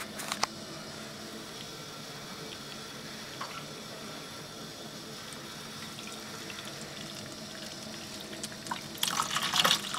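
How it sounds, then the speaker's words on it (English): A steady stream of brewing strike water runs and pours continuously into a bucket, rising to a brighter splashing near the end. "I'll just fill up this bucket and add my strike water"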